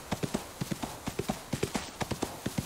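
Horse hooves clip-clop in a quick, regular rhythm in a video game (Ostwind), close and clear, with no other sounds competing.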